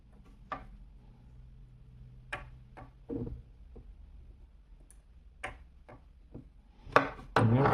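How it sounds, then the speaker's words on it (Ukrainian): Spot welding nickel strip onto EVE 21700 cells, heard as sharp isolated clicks and snaps spaced irregularly over a quiet hum, close and fairly crisp, with a denser burst near the end. "І зараз буду приварювати нікеліву стрічку"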